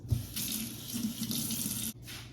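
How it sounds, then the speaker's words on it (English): Water pours from a kitchen tap into a sink as hands are washed, a steady close splashing stream that stops abruptly near the end, then briefly resumes. "So let me wash my hands."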